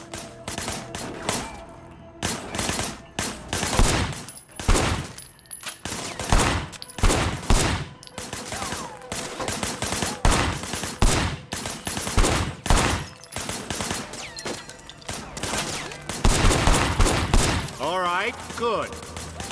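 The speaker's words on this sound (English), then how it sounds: "I want you to put some bullets in a few things." Repeated bursts of gunfire in the open-world action game Sleeping Dogs: Definitive Edition, fired from behind a barricade in a shootout. The loud volleys come in irregular clusters, with some speech mixed in.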